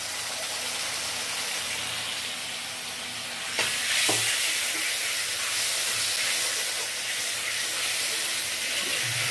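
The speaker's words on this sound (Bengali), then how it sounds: "মশলার মধ্যে মাছগুলোকে ভালো করে সাঁতলে নেওয়া হচ্ছে" Katla fish pieces sauté in spice paste with green chilli in a pan, a steady loud sizzle and hiss that jumps sharply when a little water is added, with occasional stirring scrapes.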